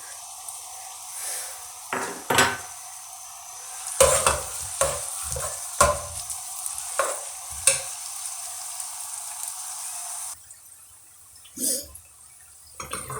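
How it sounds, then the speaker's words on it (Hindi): Roughly chopped medium-sized onions sizzle steadily in hot oil in a home kitchen, with repeated scraping stirs and clatters of a spoon against the pan over the constant close frying hiss. "2 दरमियाने साइज़ के प्याज जो हैं इनको रफली चॉप्ड किया है, इसको मैं डाल दूंगी अभी, और इसको अच्छे तरीके से मैं फ्राई करूंगी"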